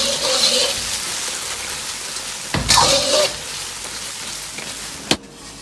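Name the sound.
stir-frying pork tenderloin in sweet and sour sauce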